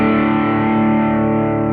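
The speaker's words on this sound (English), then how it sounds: "This is a really nice distortion." A sustained, heavily distorted electric guitar chord rings out loud and thick.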